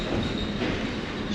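An Essex steam train rolls along its rails, a steady loud rumble of wheels and railcars with a faint metallic squeal, close by and continuous, with no talking.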